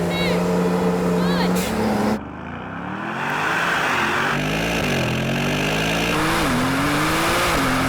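A Brabus 900 Rocket R launching in a drag race, its engine held on the brake at a steady drone, then a sharp surge and a long climbing roar through gear changes, loud and close.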